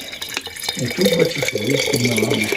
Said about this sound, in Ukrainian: Ось наливаю їм воду.